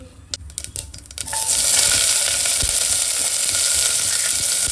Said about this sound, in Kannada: ಇವಾಗ ಇದನ್ನು ಚೆನ್ನಾಗಿ ಫ್ರೈ ಮಾಡ್ಕೊಳ್ಳೋಣ.